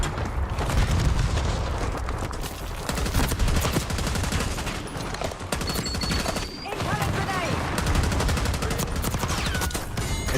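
A video game shootout bursts with rapid automatic gunfire and booming shots, loud and almost continuous throughout, with game sound effects layered in and chaotic bursts piling over each other.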